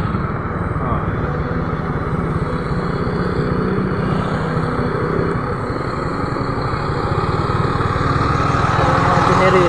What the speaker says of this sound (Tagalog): Generator mo.